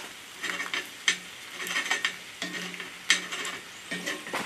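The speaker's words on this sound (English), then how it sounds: "So I'm going to go ahead and break these yolks." Egg yolks being broken and stirred in a pan in a canvas hot tent at a snowy camp, heard as soft repeated scraping and clinking strokes over a faint sizzle, fairly quiet and close.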